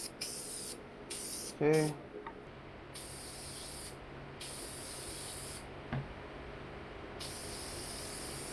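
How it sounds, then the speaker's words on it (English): Oil is sprayed onto a K&N air filter while servicing a 1966 Ford Mustang, heard as a series of close, hissing spray bursts separated by short gaps, with a brief spoken word and a faint squeak. "The next thing is I need to lubricate my K&N filter."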